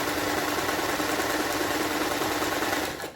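A sewing machine stitches fabric makeup remover wipes, running in a fast continuous whirring, rattling buzz close up. The motor stops abruptly near the end.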